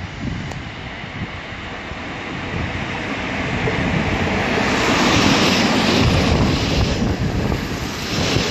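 A TLK Halny passenger train hauled by an EP07 electric locomotive passes nearby, a broad rushing roar of wheels and wagons that builds steadily and stays loud.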